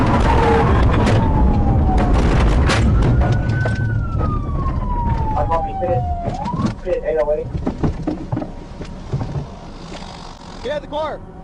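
A loud police siren wails and sweeps up and down close by during a high-speed pursuit, with engine noise and shouting voices underneath.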